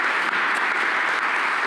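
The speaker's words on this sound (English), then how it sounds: "I think a round of applause not just for the panelists, but also for yourself for engaging with the topic" A conference audience claps for a panel of speakers, dense even applause throughout.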